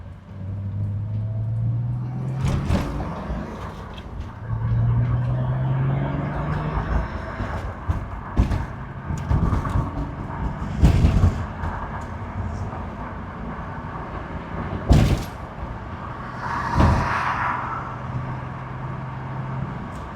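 A Toyota MK3 Supra cruising on the highway, a steady engine drone with tonal hum rising and falling under wind and road noise, with occasional thumps and bumps.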